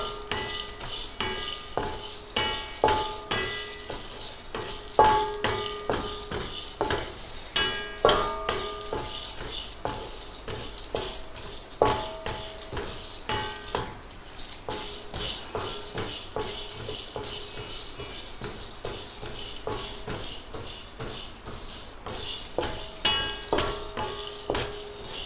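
Lentils for idli podi dry-roasting in a pan over medium heat, stirred continuously with a steady rustle and light metallic scraping and clinks, close and moderately loud with no voices.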